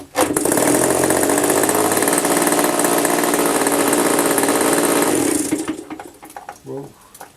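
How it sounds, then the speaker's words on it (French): A small engine runs roughly with a loud, buzzing, chainsaw-like drone held steady for about five seconds, then cuts out, leaving sputtering tails and quieter noise. "Ce moteur a l'air pénible quand même."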